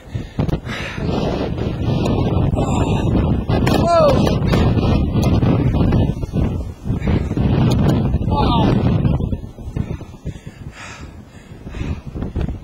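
Strong, cold wind roars and buffets the microphone continuously at a wildfire near Johnstown, with a person speaking over the gusts.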